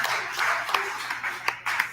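A single person claps steadily at a live fan show in Buffalo, with sharp, close, evenly spaced hand claps and faint room noise between them.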